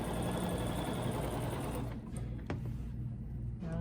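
A sewing machine runs steadily for about two seconds, stitching a quilt block along a ruler, then stops, leaving faint clicks and handling sounds nearby.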